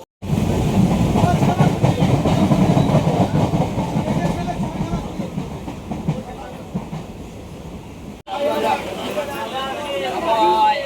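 A train rumbles with a clickety-clack rhythm at Dakshin Barasat railway station, steady and fairly loud, cutting off briefly near the end before resuming, with people talking faintly underneath.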